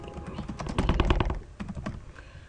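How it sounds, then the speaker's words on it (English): Rapid clicking of keys on a computer keyboard while someone types a business memo, with a dense, uneven run of close taps that swells in the middle and thins out toward the end. "I'm going to hit the enter key and type subject"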